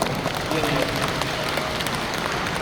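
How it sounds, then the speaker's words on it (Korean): A broad wash of clapping from a church congregation, continuous and fairly loud, with no clear individual claps standing out. "여러분 박수 한번 쳐주십시오"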